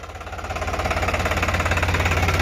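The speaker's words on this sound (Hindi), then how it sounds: "पहले ट्रैक्टर की आवाज़ देखियो, आवाज़ कैसी है" A New Holland 3600-2 diesel tractor engine idles close by, a steady, rhythmic low chugging that grows slightly louder and then holds even.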